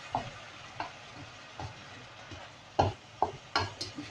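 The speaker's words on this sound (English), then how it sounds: "Let's get them bean sprouts cooking." Bean sprouts stir-frying in a pan on a domestic cooker after a glug of soy sauce, with a steady low sizzle broken by repeated clattering scrapes and tosses of the spatula, close by and with no talk.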